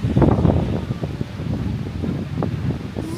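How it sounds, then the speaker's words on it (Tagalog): Strong, gusty wind on Mount Fuji roars and buffets the microphone continuously, with rumbling low-end bursts rising and falling throughout. "Ayan, nadidinig nyo guys. Ang lakas ng hangin."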